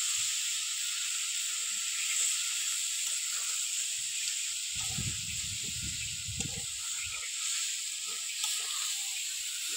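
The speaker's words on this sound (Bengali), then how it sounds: "এবার চিনি দেবো" Steady hissing sizzle as sugar is added to a hot, salted, very sour jujube (kul) pickle in the pan, with a burst of lower bubbling and rustling partway through.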